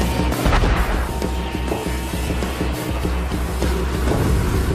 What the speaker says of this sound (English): So the Spooky crew lock on with the howitzer to take it out.